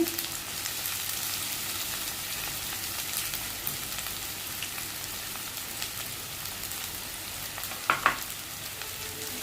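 Onions, about a cup, frying in a pan for a beef kala bhuna: a steady, even sizzle hisses throughout, with a few brief clinks of stirring near the end and no talking.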